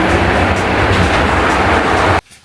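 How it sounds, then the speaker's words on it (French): A Paris metro train riding along, a loud, dense rumble and rattle of the carriage that runs steadily, then cuts off abruptly near the end. "Là, je suis dans le métro."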